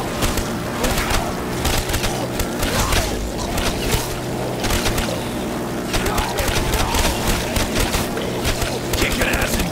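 Nonstop automatic gunfire in the Call of Duty Black Ops zombies map Kino der Toten, dense loud rattling volleys running throughout with game effects layered underneath and no gaps.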